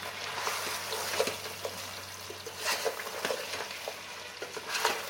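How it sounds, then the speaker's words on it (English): Chicken curry simmers in a pan on a medium flame, bubbling and sizzling softly while a spoon stirs it in intermittent scraping strokes, close and without talk. "get this cooking for another 15 minutes on a medium flame."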